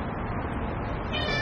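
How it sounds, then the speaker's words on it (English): A domestic cat lets out a short meow near the end, rising over a steady background of household noise. "You're the most beautiful cat in the whole world."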